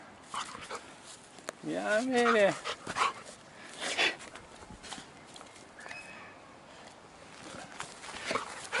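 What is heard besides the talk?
nine-month-old golden retriever puppy whimpering and barking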